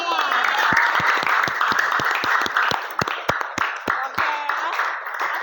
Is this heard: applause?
yes